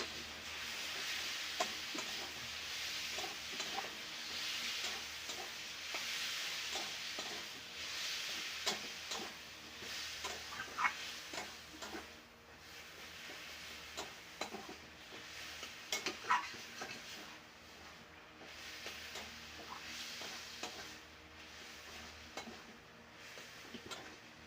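Vegetarian taro leaves stir-frying in a cooked spice mix, with a soft ongoing sizzle and hiss broken by repeated spatula scrapes and light clinks against the pan, quiet and unhurried, no talking.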